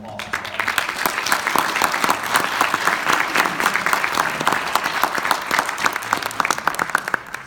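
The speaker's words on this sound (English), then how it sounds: "let's give all the other Eagle Scouts that sit in this room a round of applause" Dense, loud round of applause from an audience at an Eagle Scout ceremony, honoring the Eagle Scouts in the room. Many hands clap steadily and continuously from start to finish.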